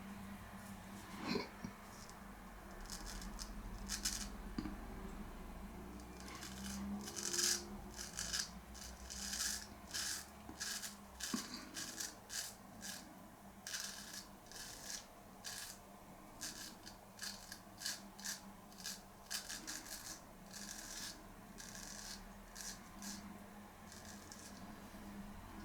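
Wet shaving a thick growth of facial hair with a Parker 1001 razor with new custom scales and a new edge, a close run of rhythmic raspy scraping strokes, quiet, with brief pauses and an occasional throat sound.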